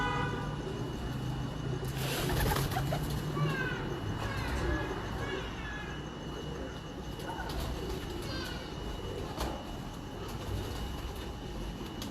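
Pigeons on a rooftop coo with soft, repeated throaty calls over a background of steady outdoor noise, with brief higher chirps scattered through.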